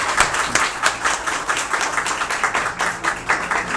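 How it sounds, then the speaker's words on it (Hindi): An audience at a one-day beautician class claps steadily to welcome a speaker to the stage, a dense, close patter of many hands that continues throughout without any voices. "आपकी भरपूर तालियों में तशरीफ लाएंगे डॉक्टर सरफराज मुगल"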